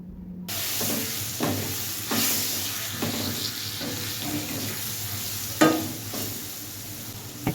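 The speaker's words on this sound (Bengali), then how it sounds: "এবার দিয়ে দেবো 1 চামচ হলুদ গুঁড়ো। ভালোভাবে আমি কষিয়ে নেব।" Turmeric powder and spices being sautéed over low flame in a pan for a Barishal-style aar fish curry, giving a steady moderate sizzle with occasional scraping stir strokes and clinks, no voices.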